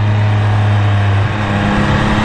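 A Triumph Speed Triple 1200RS motorcycle being ridden, a loud steady engine drone with strong low hum and wind rush heard from the rider's position, pitch shifting slightly midway, no talking.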